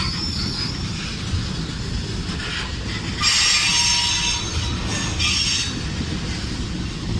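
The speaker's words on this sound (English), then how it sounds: "It's a long train." A long freight train rolls steadily past, a continuous rumbling roar of wheels with bursts of high squealing from the rails, alone without voices.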